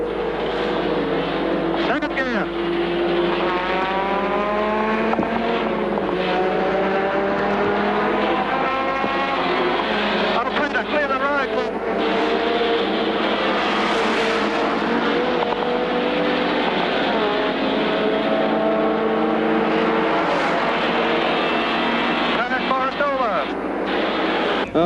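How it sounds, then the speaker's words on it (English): Holden touring car racing at Bathurst, engine note dropping as the driver downshifts through the gears into a left-hand corner, loud and continuous with a commentator talking over it throughout. "Now down through the gears as he has to take this left-hander."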